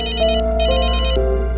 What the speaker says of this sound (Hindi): एक सेकंड, वो फोन आ रहा है।